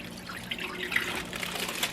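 Water being poured into a crock pot fitted with a plastic slow cooker liner, heard as a steady, soft trickle close by with no talking.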